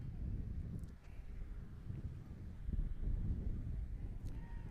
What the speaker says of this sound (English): Another gloriously windy day in Nebraska.